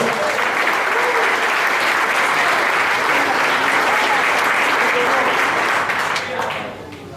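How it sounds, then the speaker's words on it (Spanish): A church congregation at a Hallelujah Night service bursts into sustained, dense applause for the Lord, loud and close, which fades off in the final moments. "¿Cuánto le dan un aplauso al Señor?"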